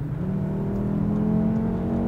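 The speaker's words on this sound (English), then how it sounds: "this engine really gives you goosebumps when you accelerate" The engine of a 2015 Audi RS3 Sportback accelerating in sport mode, heard from inside the car as a steady, rising drone that climbs in pitch for about two seconds, loud and with no talk.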